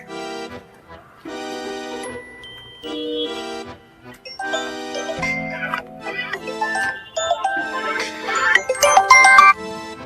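A mobile phone ringtone plays for an incoming call, a bright melodic tune repeating in short phrases that grows busier and louder toward the end.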